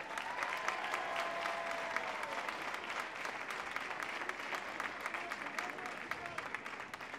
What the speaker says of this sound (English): Let's give them another well-deserved round of applause.